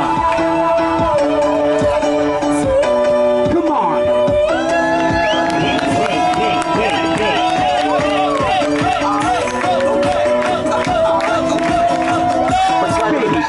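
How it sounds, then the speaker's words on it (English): An audience at a pirate show on a Cabo cruise excursion cheers and whoops loudly and continuously over music, with an announcer's amplified voice talking through it. "give me a big applause for Baby Chino"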